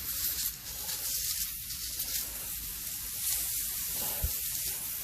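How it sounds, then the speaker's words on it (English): A handheld misting spray bottle spritzes potted plants outdoors in repeated short, breathy hissing bursts, close and fairly soft, with no talking. "Let me get my misty spray out here."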